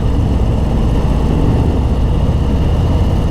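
A 2023 Harley-Davidson motorcycle engine revs high, producing a loud, continuous, dense rumble and roar up close without a break, with no talk.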